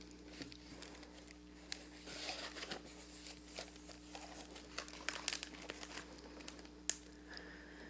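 A package of origami paper crinkles and rustles up close, with soft, irregular rustling and a few sharp crackles over a quiet room hum.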